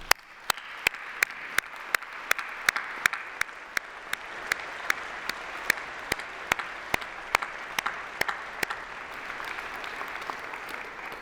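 Audience applause at a university graduation ceremony in a large hall: sustained, even crowd clapping with a few sharp, regularly spaced claps standing out on top, lasting around eleven seconds.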